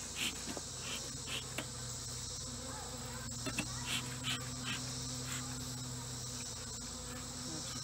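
Honey bees drone in a steady, close buzz from an open hive that is low on bees and has spotty brood, with a few scattered clicks and faint sounds from the surroundings.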